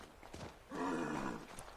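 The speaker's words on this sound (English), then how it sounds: "We got our horses hitched up." Hitched horses in the video game Assassin's Creed 3 make a short, faint burst of snorting or whinnying with a few soft hoof clops, heard briefly without talking.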